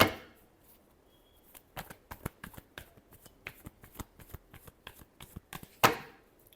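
Tarot cards shuffled in a quick series of crisp riffling snaps, close and fairly quiet, with a louder burst near the end.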